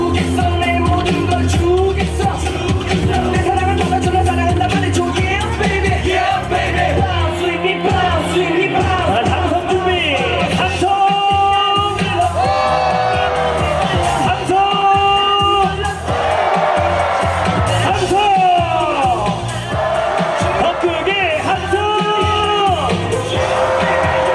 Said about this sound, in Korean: 승리를 부르는 박수와 함성